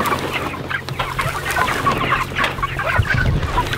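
Chickens cluck and chatter continuously near a chicken coop on a small family farm, close and busy, with overlapping calls and no one speaking.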